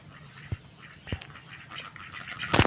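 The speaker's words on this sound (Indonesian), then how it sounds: "Bebek tetangga yang suka masuk ke sini dan ya suka merusak tanamanku" A neighbour's duck in a garden gives a few short, sharp quacks, fairly close and loud, with a louder burst at the end over quiet outdoor background.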